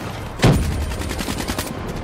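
Gunfire from the video game Call of Duty Black Ops 3: a loud burst followed by a quick run of rapid repeated shots, with no talking.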